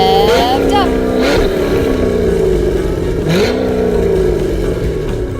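A dirt track race car from the Pro Stock division revs hard, its engine pitch sweeping up and falling back in several loud, close bursts over a steady rumble.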